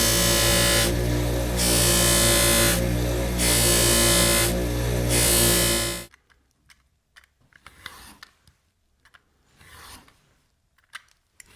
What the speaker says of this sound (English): I'll take this over to the buffer and I'll just buff this sharp